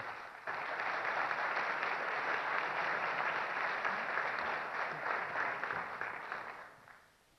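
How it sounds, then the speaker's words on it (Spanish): Audience applause for a moderator at a presidential candidates' debate held by a Guatemalan business council, steady many-handed clapping in a hall that holds for several seconds at moderate distance and then fades out. "para el cual les pido un fuerte aplauso"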